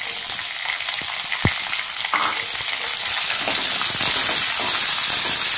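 Onions and curry leaves fry in hot oil for an okra gojju curry, a loud, close, continuous crackling sizzle that grows a little fuller, with occasional stirring and no speech.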